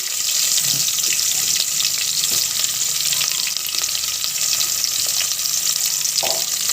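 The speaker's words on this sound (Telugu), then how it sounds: "ఈ పోపు చిట్పెట్టలాడే వరకు బాగా వేగనివ్వండి" Tempering spices splutter and crackle in hot oil for egg curry, a dense continuous sizzle with scattered sharp pops close by.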